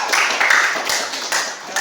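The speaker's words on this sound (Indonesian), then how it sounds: "Tepuk tangan untuk Mbak Syevani dari kelompok 4." Students in an Indonesian language classroom give a brief burst of hand clapping: a quick, uneven patter of close claps lasting under two seconds.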